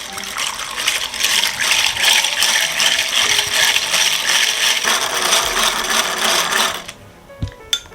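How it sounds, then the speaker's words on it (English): A hand beater whipping egg white to stiff peaks in a bowl for mint leaf candy, a steady loud whirring and splashing churn that runs about seven seconds before stopping abruptly, followed by a few faint clicks. "I'm going to use my hand beater to beat the egg white until it comes to a peak."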